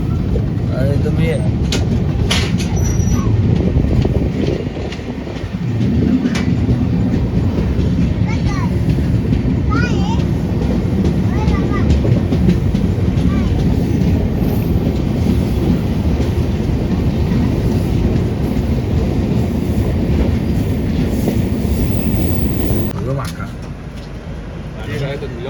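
The Swaraj Express passes close by: a loud, continuous rumble with rhythmic wheel clatter for about twenty seconds before it eases off, with voices talking over it.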